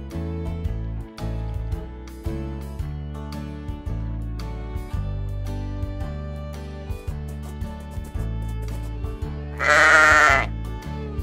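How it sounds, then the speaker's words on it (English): One sheep bleats a single wavering call near the end, rising over a bouncy children's tune that plays throughout. "Sheep."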